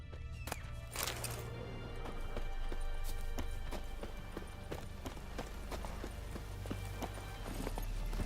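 Roach, the horse in Witcher 3, gallops in a fast, steady clip-clop of hooves, with rhythmic thumping that runs continuously, close and prominent, over a low rumbling background.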